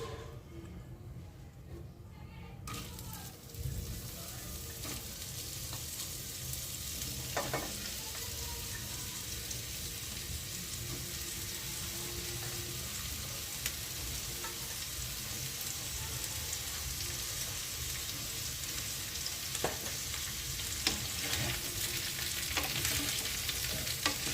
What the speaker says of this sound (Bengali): এবার ভাজার জন্য দিয়ে দিচ্ছি।